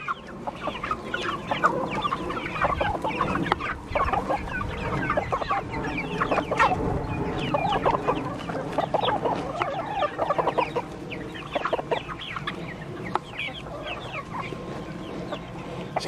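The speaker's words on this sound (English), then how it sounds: "Golly, these chickens are getting big" A flock of chickens clucks and chatters busily and continuously at close range, with overlapping calls and no human voices.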